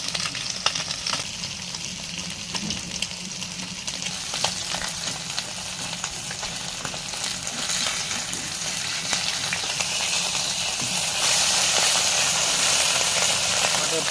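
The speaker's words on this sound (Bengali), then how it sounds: "আমাদের ছোট মাছ ভাজা কমপ্লিটের দিকে" Small fish frying in oil in a pan at home, a continuous sizzle and crackle that holds steady and grows a little brighter toward the end, with faint background noise and a little stirring.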